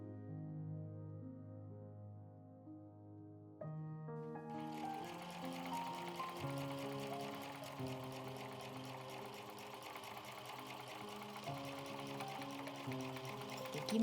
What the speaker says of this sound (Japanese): 裏布で布の端を隠すようにもう一度ミシンで縫います